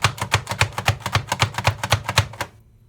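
A knife rapidly crushing food into a paste on a cutting board, about a dozen even, close, sharp chops in steady rhythm, then stopping abruptly into quiet.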